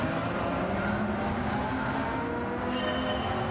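A Dodge Charger SRT Hellcat race car with racing aero parts, driven in Gran Turismo 7 around Grand Valley Highway against AI opponents, its engine droning loud and steady with a rising, sustained roar.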